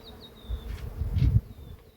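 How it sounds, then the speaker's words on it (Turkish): Low, droning buzz of bees swelling and fading as they fly close past among yellow flowers and blossoming cherry trees, with faint high whines drifting in and out; no one speaks. "Arılar çalışmaya başlamış."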